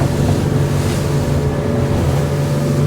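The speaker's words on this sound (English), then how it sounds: "let's go across the waves now, just doing it at 22, 23 knots." A Capelli Tempest 1000 boat runs across waves at about 22 knots, its engine drone and steady hull slap blending with loud rushing water and wind buffeting the microphone throughout.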